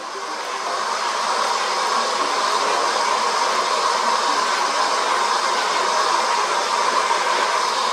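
A hair dryer blows with a steady, loud whoosh held close to a damaged canvas picture, rising briefly at the start and then running constantly.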